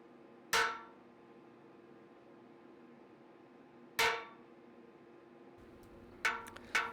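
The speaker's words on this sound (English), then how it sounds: "now I'm just gonna kind of use the hammer to move the material around" A hand hammer strikes hot metal while forging a katana pommel, three sharp ringing blows spaced a few seconds apart, then a quick double strike, each decaying into a metallic ring over a low workshop hum.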